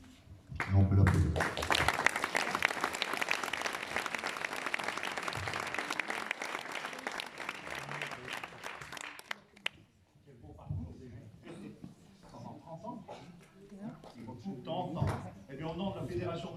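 An audience applauds a musician receiving a silver medal from a music federation in Savoie, with dense clapping for about nine seconds that then fades into speech and murmuring.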